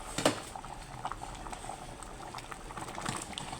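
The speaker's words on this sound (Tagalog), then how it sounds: "Pakuluin lang natin saglit guys." Mung bean soup with squash and moringa leaves bubbles in a pot, a steady close simmering patter with soft pops running throughout and no talk.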